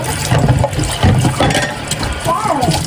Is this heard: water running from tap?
yes